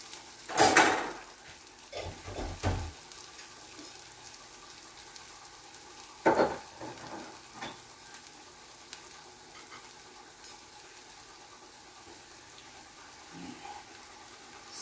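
Garlic drops into a pan and fries, with a few sharp bursts of sizzle and clatter from stirring, separated by stretches of quiet, low crackling.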